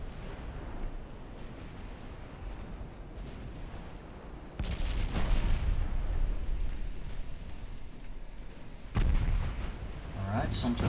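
Naval battle in the Ultimate Admiral Dreadnoughts video game during a torpedo launch, with steady rumbling gunfire and distant booms throughout, growing louder and denser partway through and swelling again near the end.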